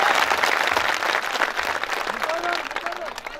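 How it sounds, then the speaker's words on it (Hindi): An audience at a mushaira poetry gathering claps in a loud burst of applause that fades a little toward the end, with a voice speaking over it. "एक बार सबसे मजबूत तालियां बजा के मुझे बता दीजिए"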